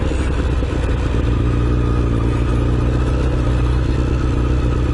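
A 1988 Honda CBR1000F motorcycle engine runs loud and close, a steady deep idle rumble with mechanical clatter that holds constant throughout.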